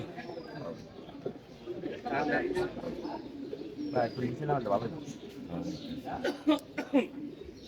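Pigeons coo repeatedly at a Mirpur pigeon racing club during the first day of a tournament, soft throaty calls close by mixed with people talking and laughing nearby.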